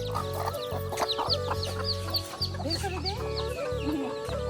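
Several desi hens cluck and chatter nearby in short bursts while being fed, with soft chirps of chicks and a steady low hum underneath.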